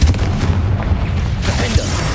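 In the Hogwarts Legacy video game, a Confringo spell explodes with a short burst of booming, crackling impacts, loud and close, lasting about two seconds.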